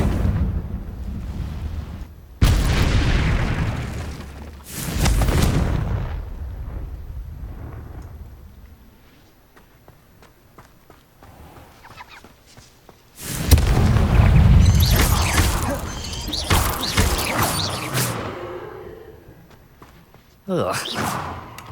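The Confringo explosion spell in Hogwarts Legacy sets off deep booming blasts, two close together early and a longer rumbling burst later, with a voice heard among them.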